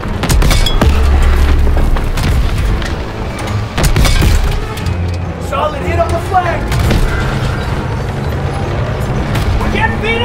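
Heavy tank shell impacts and booming explosions in a Call of Duty WWII tank battle against a Panzer, loud repeated blasts and cracks with rumbling aftermath, overlapping shouted voices.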